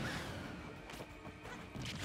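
Up smash attacks landing in a Super Smash Bros. tournament grand final, heard as repeated sharp crashing hits and whooshes in quick succession over steady game noise and crowd ambience.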